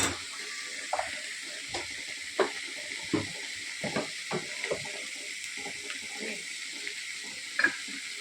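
Curry leaves sizzle in hot oil in a pan, a steady hiss with scattered crackles and pops throughout, close and alone with no talking.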